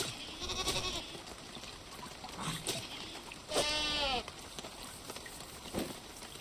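A goat bleats in the Wild Terra II game, with one clear wavering bleat at mid-loudness and a few fainter calls around it, set against a light ambient outdoor background.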